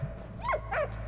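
A dog in the video game Valiant Hearts gives two quick whining yelps, close and fairly quiet, over a low steady hum.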